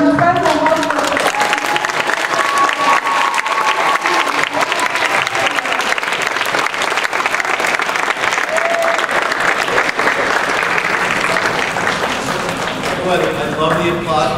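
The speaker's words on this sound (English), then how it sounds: "I love the applause" A school audience applauds loudly and steadily through an award presentation at a school meeting, dense sustained clapping that carries on for the whole stretch with some voices mixed in.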